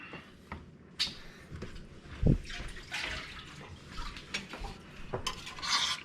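Squirrel dumplings are stirred in a pot, with a spoon clinking and scraping against the metal, a soft wet bubbling beneath, and a louder knock partway through.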